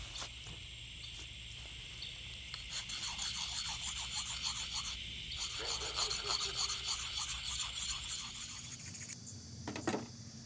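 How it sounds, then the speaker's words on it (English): A hatchet blade rasped steadily against a coarse Smith's sharpening stone outdoors, close and continuous grinding strokes with a gritty, scraping texture and no speech. "let me put an edge on that hatchet first."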